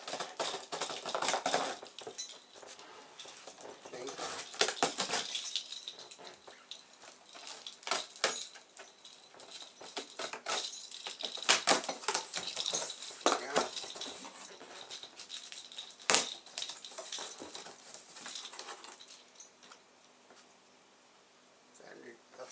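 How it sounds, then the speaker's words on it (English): A single blade slices through sellotape sealing the cardboard box of a Spear & Jackson 24v cordless 34cm rotary lawn mower, giving close scratchy cutting and tearing sounds with rustling and crackling of tape and cardboard throughout. "I can use just like one blade there for getting through this sellotape."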